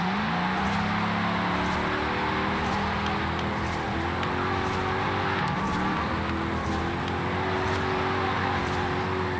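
A 1975 Ford Bronco with an AWD drift tune drifts in a racing video game, its engine droning steadily as the pitch shifts and holds, along with regular faint ticks and a broad road hiss underneath.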